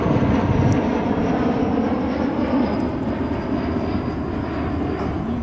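Engines of an ATR commercial turboprop at an airshow, a loud steady roar with a near-constant drone that eases slightly toward the end.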